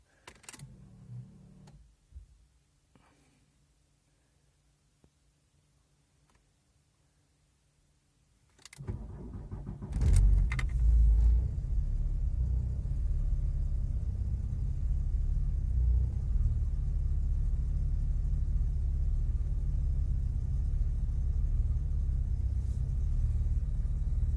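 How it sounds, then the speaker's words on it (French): A 1990 Volkswagen Golf 2 GTI, unstarted since the day before, cranks and catches on a cold start after some quiet fiddling, then settles into a loud, steady, low idle rumble. "je vais vous filmer le démarrage à froid de la voiture qui n'a pas tourné depuis hier"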